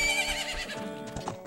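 A short, bright horse whinny rings out close and clear from Zelda: Majora's Mask, fading into a few soft hoof clops.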